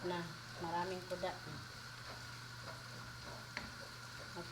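Anchovies (hamsa) frying in oil until golden brown give a faint, steady low sizzle in the background while someone talks over it.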